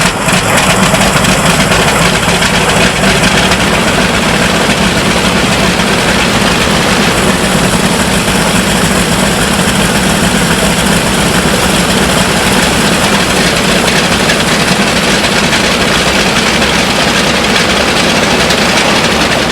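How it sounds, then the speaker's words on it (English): Lockheed Super Constellation piston engines starting and running up after nearly 18 years on the ground, a loud, steady, dense roar with deep low rumble that continues unbroken throughout. "The start of the engines and run-up was awesome."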